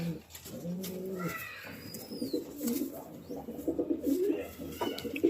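A pigeon coos in soft, throaty bursts close by, its low rolling calls repeating over several seconds with a few higher chirps and light rustling around them.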